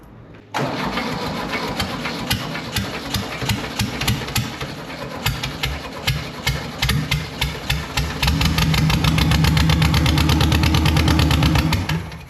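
VW dune buggy engine cranking with a rhythmic chugging starter sound, then catching and running loudly with a rough steady idle close by, no voices.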